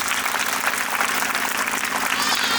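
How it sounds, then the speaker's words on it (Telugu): Audience applause for the teachers at a parents' seminar: steady, dense clapping from a crowd that fills the room and continues at an even loudness throughout. "ఫ్రెండ్స్, గట్టి క్లాప్స్ కొట్టిన టీచర్స్కి"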